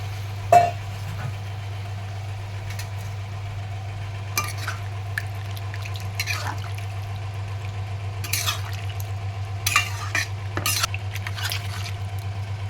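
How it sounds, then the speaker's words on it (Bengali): Paneer with its soaking water goes into a well-fried spice paste in a pan, giving a soft sizzle with scattered clinks and scrapes of a utensil over a steady low hum, without any talking. "এবার আমি পনির ভেজানো জলটা সমেত পনিরটা ঢেলে দেবো এর মধ্যে।"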